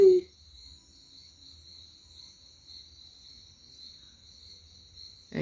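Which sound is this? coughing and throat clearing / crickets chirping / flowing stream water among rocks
crickets chirping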